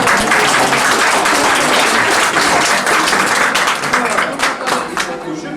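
Dense, steady applause from an audience welcoming performers at an Uttarakhand community cultural gathering in Gurgaon, a continuous wash of claps that thins slightly toward the end, with a voice speaking over it.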